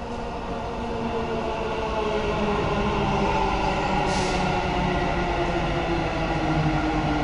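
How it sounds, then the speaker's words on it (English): A Dubai metro train pulls into the station with a steady, loud rail rumble and rolling wagon noise that builds over the first second and holds, with a brief hiss near the middle, and no voices. "And here comes our metro."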